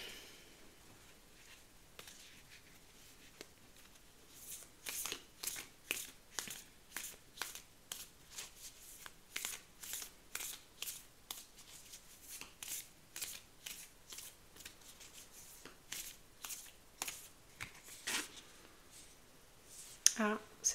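Tarot cards are shuffled close by in a quick, irregular run of crisp riffling snaps that goes on for most of the stretch over a quiet background.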